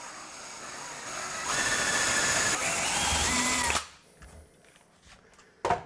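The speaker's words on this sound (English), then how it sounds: "make sure that when you drill your hole, you're not gonna drill through your cabinet" A power drill bores a hole through a cabinet door during a kitchen makeover, whining loudly and steadily for nearly four seconds before cutting off, followed by quieter handling noises and a short knock at the end.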